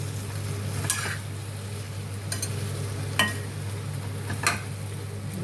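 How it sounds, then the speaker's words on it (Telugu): Mango pieces fry in oil in a covered pan for a village-style mango curry, with a soft steady sizzle over a low hum and a few scraping stirs spaced about a second apart. "ఇలా ఆయిల్లో కొంచెంసేపు ఈ మామిడికాయ ముక్కలు వేగాలండి"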